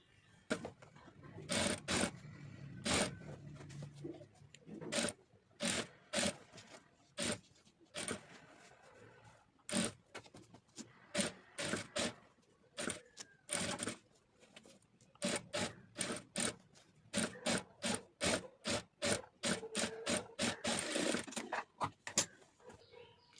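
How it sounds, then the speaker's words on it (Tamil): A sewing machine stitching a simple neck design and piping on a garment runs in short repeated bursts with brief pauses between, fairly close and with no talk. "இப்போ இதை அப்படியே அதில் வச்சு தச்சுட்டு வந்துடலாம்"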